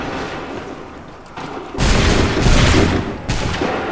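Ship cannons in Assassin's Creed 3 fire in a loud volley of booming blasts. Several overlapping shots roll together into a heavy, sustained barrage, and no one speaks.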